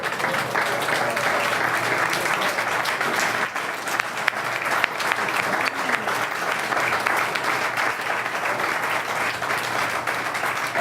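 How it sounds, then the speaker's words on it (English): An audience applauding comedians at a comedy night, sustained dense clapping from a crowd throughout, steady and fairly loud with no pause. "so y'all can give them a round of applause"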